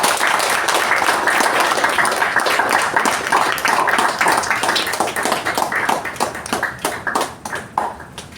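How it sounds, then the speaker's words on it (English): Loud, sustained applause fills the room at a Toastmasters installation ceremony, a thick wash of many hands clapping that thins into distinct scattered claps near the end. "Please give a huge round of applause."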